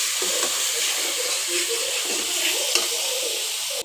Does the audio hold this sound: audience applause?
no